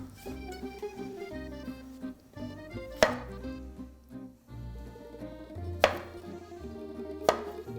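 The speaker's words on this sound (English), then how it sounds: "I'm going to quarter the tomatoes and just remove the stems if they have them" A knife quarters slippery peeled tomatoes on a cutting board, three sharp isolated thunks of the blade hitting the board, spaced a few seconds apart, over a bed of music; no talking.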